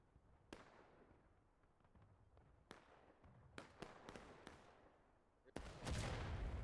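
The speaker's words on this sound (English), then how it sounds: "that CSA artillery should be getting good shots all night" Distant cannon blasts from Confederate artillery in a Civil War battle game, several sharp booms spaced irregularly over a low background rumble, with a louder, denser barrage at the end.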